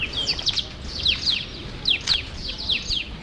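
A bird chirps in quick bursts of high, thin tweets that repeat several times over steady low background noise, fairly close and clear.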